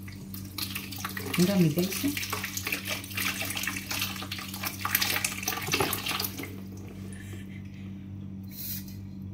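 Grapes rinsed under a running tap, a steady splash of water onto the fruit with brief shifts as the bunch is moved, voices talking over the flow until it quiets near the end.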